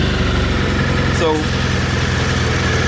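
A Kawasaki Versys-X 300 motorcycle engine idles steadily with a continuous, close mechanical hum and a short whirring flourish near the middle, while someone speaks briefly over it.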